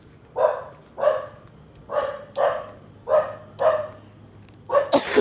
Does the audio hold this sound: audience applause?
no